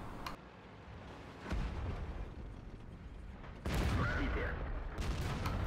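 Tank cannon fire in the World of Tanks game, a few sharp booming shots with rumbling battle noise between them, fairly faint overall, with someone talking over it.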